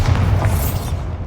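Bombarda spell blast in the video game Hogwarts Legacy, a short low boom that rumbles briefly and fades.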